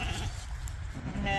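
Sheep in a farm pen give a single, fairly close bleat over a busy rumble of farmyard noise and wind, with a human voice faint in the mix.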